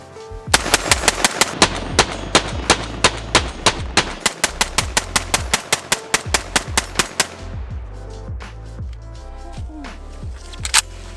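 Rapid semi-automatic shots from an IWI Galil ACE 5.56 pistol, about two dozen loud, sharp cracks fired in quick strings with brief pauses, each followed by a short echoing tail at an outdoor range.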